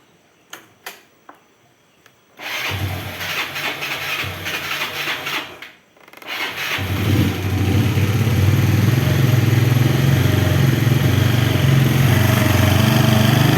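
A 2005 Yamaha Mio scooter engine is started after a few light ticks and clicks, runs briefly, dips, then restarts and settles into a loud, steady idle drone close by.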